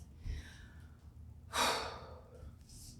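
A single deep breath taken mid-way through a stick mobility shoulder and chest workout: a strong, breathy rush of air, close and fairly loud, over a low background hum.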